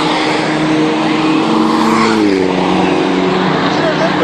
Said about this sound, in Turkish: Öbür araba yeni geçti.